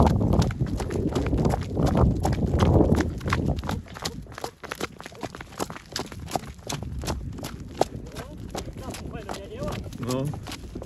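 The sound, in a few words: mare being ridden, hooves clip-clopping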